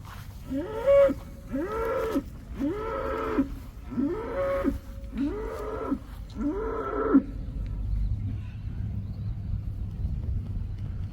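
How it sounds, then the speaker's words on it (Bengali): A cow moos six times in a steady series of drawn-out, loud calls on a cattle farm in America, then the sound falls to low background rumble. "এই হচ্ছে গরুর খামার সামান্য কয়েকটা গরু"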